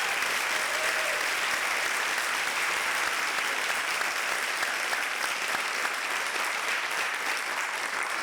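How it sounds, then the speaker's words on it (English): A convocation audience applauds in a large hall, with dense, sustained clapping that stays loud and even for several seconds without any voices over it. "How about a round of applause for our 3 great..."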